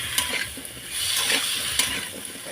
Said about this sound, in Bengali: ঝোড়া আলুগুলো দিয়ে দিলাম, দিয়ে এখানে ভালো করে একটু কষিয়ে নেবো